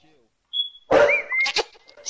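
A dog barks a few times, in short sharp bursts that break through over a player talking during a game of prop hunt; the barks sit close and fairly loud against the voice.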